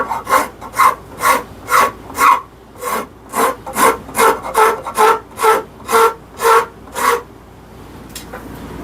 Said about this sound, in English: with a rasp, taking it down this way.